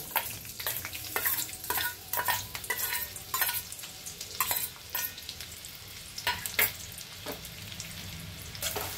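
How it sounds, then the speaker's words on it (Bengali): Sliced onions fry in oil and ghee in a hot pan, a steady sizzle under repeated close scraping and stirring strokes. "এর মধ্যে আমি বেরেস্তাটা ভেজে নেব"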